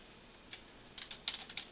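Keys on the control keyboard of a Cincinnati Milacron machine under repair get pressed in a quick, uneven run of light clicks, close and fairly quiet over a steady background hiss.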